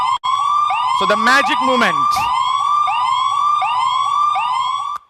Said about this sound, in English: I can hear some siren.